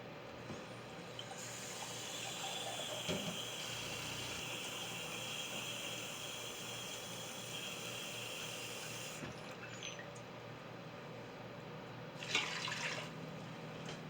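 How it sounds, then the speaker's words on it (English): Four cups of water poured into a container in one steady, continuous stream that runs for about fourteen seconds at an even level, with no talking. "I think I'm going to add 4 cups of water."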